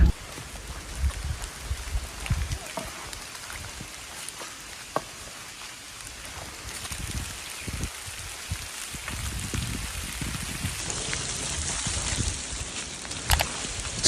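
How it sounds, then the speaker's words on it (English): Rain falling during a cold mountain trek, about four kilometres in: a steady hiss with scattered close drops and taps striking surfaces, fairly quiet, with brief bumps and handling noise and no talk. "It's raining again."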